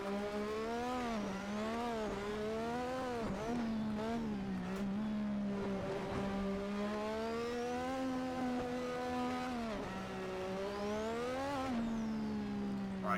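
A classic Formula 1 car engine howls around the Singapore GP street circuit in a racing game, a loud high-pitched wail rising and falling steadily through upshifts and downshifts, close and continuous with no voices.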